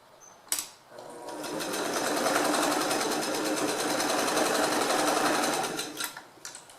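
Sewing machine running a continuous seam along a chamfered bag lining, a steady fast whirring stitch lasting several seconds after a brief click, loud and close with no talk.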